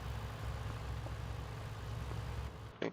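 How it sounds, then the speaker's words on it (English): A truck engine idles in a farming video game, a low steady rumble that stays faint and even before cutting off abruptly at the end. "Let me go ahead and shut this truck off."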